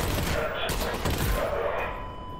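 Burst-fire gunshots from a weapon in a VR shooter game against a Combine soldier, sounding as rapid, dense volleys that stay loud and steady across the whole moment, with a voice briefly audible under the shooting.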